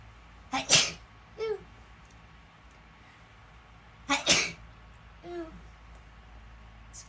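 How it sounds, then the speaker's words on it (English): Two sharp human sneezes several seconds apart, each followed by short quiet vocal sounds, close and loud against a calm indoor background. "I might sneeze again."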